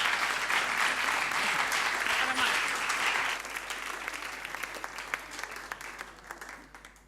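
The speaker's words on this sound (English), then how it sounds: "Give her a big applause." A crowd claps loudly and steadily, then the applause thins into scattered, fading claps.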